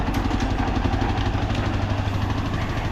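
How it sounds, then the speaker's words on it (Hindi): A restored 1959 Lanz Bulldog D2416 tractor engine runs close by, a loud, steady low chugging rumble with clattery mechanical texture and no voices. "ट्रैक्टर स्टार्ट हो जाता 2-3 थोड़ा चला के लेकर आऊँगा"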